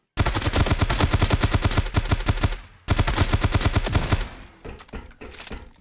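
Rapid automatic gunfire rattles loudly in Dysterra, shooting at a gun shield robot. Two long bursts are split by a brief pause, then sparser, fainter shots trail off.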